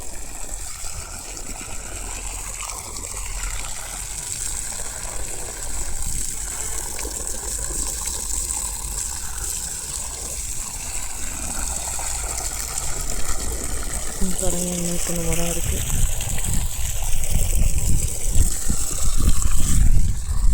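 Water gushes steadily from a pump-fed hose onto manured young fruit trees on a farm, a continuous broadband rush that swells louder toward the end, with a brief engine-like hum and someone speaking over it.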